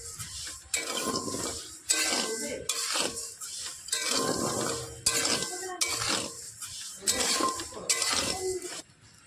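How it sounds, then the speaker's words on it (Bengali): Dry sago pearls are stirred in a metal pan while being prepared for papad, giving rhythmic rattling scrapes and clinks in bursts about every second, close and clear. "এবার কিছু সময় আমি নাড়াচাড়া করে নেব।"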